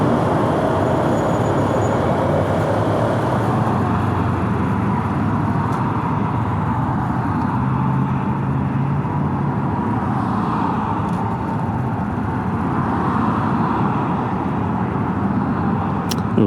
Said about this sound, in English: Use the throttle lightly and judiciously. It's a very efficient little machine.